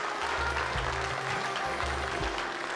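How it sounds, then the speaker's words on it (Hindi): Dense, steady clapping from a TV game show studio audience fills the whole stretch, loud and continuous without pause. "जोरदार तालियां हो जाए जोड़ी नंबर 4 के लिए।"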